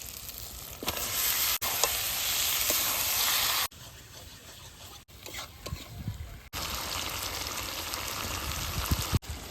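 Chicken pieces go into a pan of well-fried spices for a cauliflower chicken curry and sizzle loudly in a steady, close hiss, broken by brief quieter gaps and occasional stirring scrapes, with no talking.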